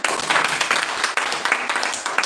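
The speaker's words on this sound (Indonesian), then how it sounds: "Yang setuju, tepuk tangan bagi Tuhan." Congregation clapping during a church sermon, a short burst of steady, fairly loud applause from a crowd filling the whole moment.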